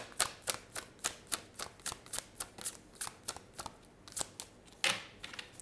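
Tarot cards are drawn and handled, making a quick series of crisp, evenly spaced flicks and snaps that are close and fairly quiet, with no talking.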